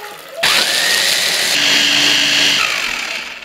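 An electric grinder whirs loudly and steadily for about three seconds as it pulverizes dry-roasted peanuts, a high motor whine with a slight pitch shift partway through.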